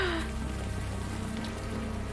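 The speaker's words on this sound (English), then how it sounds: "the warm rain is coming down" Warm rain coming down in the adventure game Unavowed, a steady soft hiss of falling drops pattering on surfaces, continuous and fairly quiet, with a brief tone at the start.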